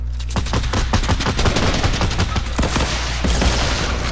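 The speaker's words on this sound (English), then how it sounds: "I'm gonna rocket launcher them" Rapid bursts of rocket launcher and gunfire in a video game firefight, loud and dense with repeated sharp blasts close together over a steady rumble.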